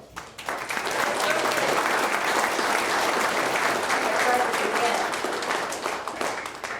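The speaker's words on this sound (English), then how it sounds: "please give her a round of applause" A crowd at a museum learning center grand opening ceremony breaks into applause that swells quickly, holds as a dense, steady patter, then begins to thin out at the end, with faint voices underneath.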